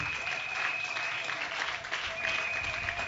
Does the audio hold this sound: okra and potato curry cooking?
no